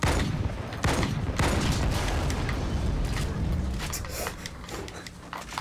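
Gunfire from the video game Halo 2, a dense stretch of loud, overlapping shots and booms with sharp bursts over a constant heavy low rumble, with no pauses.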